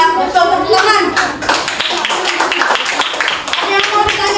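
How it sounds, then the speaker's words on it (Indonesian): Children clapping their hands in a classroom, a close, lively burst of uneven claps with voices chattering over it. "Ya, betul, tepuk tangan."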